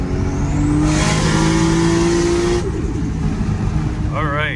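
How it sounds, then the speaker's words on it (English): A car with a single-turbo 1JZ engine accelerates hard, engine note climbing steadily with a whooshing turbo spool, then the revs drop and a shift follows; a voice is heard briefly near the end. "I hear turbo. That's all turbo right there."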